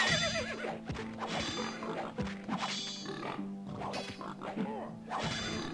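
Several horses neigh and whinny in turn in Knights and Merchants as they burn, over a steady background hum, with occasional thuds and clattering hooves mixed in.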